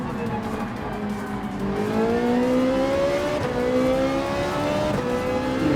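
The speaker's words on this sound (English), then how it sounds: "the 458 is a beast on this track because of its great brakes and high acceleration from slow and medium turns." A Ferrari 458 Italia engine revs and climbs steadily through the gears in a Gran Turismo 7 race, a loud, continuous rising whine with a brief lift and shift midway, alone without voices.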